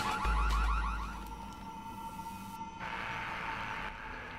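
An alarm rings during a bank robbery in the video game Splinter Cell Chaos Theory, a steady warbling electronic tone that pulses rapidly at first and then holds a continuous blare at moderate level, with no talking.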